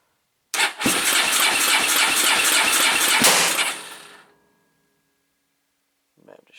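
A Suzuki DRZ400 motorcycle engine cranks over in a rapid, loud series of rhythmic chugs for about three seconds, then fades into silence without catching, followed by a brief faint sound at the end.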